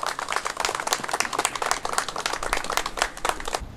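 A crowd applauds at the ceremony welcoming painter Lee In-sung's Apple Tree back to Daegu after forty years, a dense, close, steady burst of many hands clapping with no speech.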